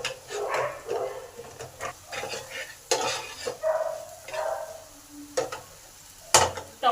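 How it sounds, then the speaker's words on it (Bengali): Tomato sautéed with spices in a pan for a masala omelette curry, with repeated scraping stirs and soft intermittent sizzling, close and fairly quiet throughout. "এই টমেটোটাকে ভালো করে এই মশলার সঙ্গে কষে নেব।"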